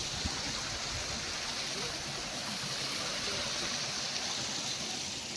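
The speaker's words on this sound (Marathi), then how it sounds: "आणि आता वाव किती मस्त नदी" A river flowing at a village, a steady, even rush of water close by, filling the whole moment with continuous broadband noise and no voices.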